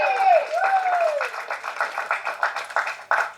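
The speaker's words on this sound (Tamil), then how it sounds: "தயவு செஞ்சு நீங்களே ஒரு தடவை கைத்தட்டிடுங்க" An audience claps at a Tamil stage event, a steady patter of hands with some voices and whistles mixed in, fairly close and lively throughout.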